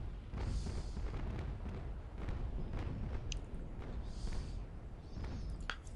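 Naval cannon broadside fire in the naval combat game Naval Action, during a tournament match: a continuous rumbling barrage of low booms with scattered sharper reports, steady and dense throughout.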